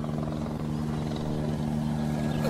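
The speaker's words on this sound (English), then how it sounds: "You fly alone, helicopter, you fly alone!" A helicopter flies overhead on the Fourth of July, its steady, loud rotor drone filling the whole stretch with a constant low hum and broad rushing noise.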